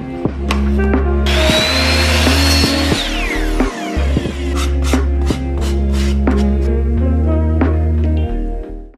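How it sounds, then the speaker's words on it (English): Miter saw trimming excess material from a dollar-store candle sconce, loud and close, with a whining motor and repeated cutting bursts over several seconds, no talking. "I cut off the excess that I didn't need, and I simply just did that on my miter saw."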